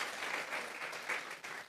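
Congregation at a church service clapping together in sustained applause, a dense, even patter of many hands filling the space close by.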